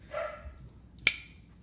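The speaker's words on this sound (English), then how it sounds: "there's Nixie again barking upstairs" A dog named Nixie barks from upstairs, a short muffled whine followed by one sharp distant bark, with quiet room tone in between.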